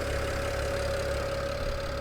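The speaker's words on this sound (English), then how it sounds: "Engine sounds good." A car engine idles steadily with a constant low hum and a fixed mid tone, nearby and even in level, with no voices present.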